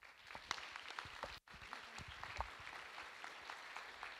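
An audience at a talk-show style event applauds to welcome a Slovak television presenter, a steady patter of many hands clapping with a brief dropout partway through, then continuing evenly.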